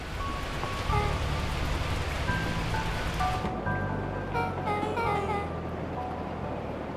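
Steady storm rain patters in the Beacon Pines video game, a dense hiss of rainfall that continues throughout while soft musical tones drift over it, with no voices.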